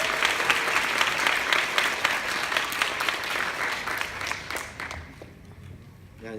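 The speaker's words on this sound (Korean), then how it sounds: "그러면 마지막 연사 이경환 연사님을 박수로 모시겠습니다." Audience applause welcoming the final speaker at a youth festival talk, many hands clapping in a thick steady wash that gradually thins and fades out near the end.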